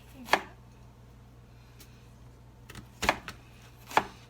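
A knife slicing through vegetables, apparently butternut squash, on a cutting board in a home kitchen: three sharp, distinct chops spaced apart, close and fairly quiet over a low steady hum.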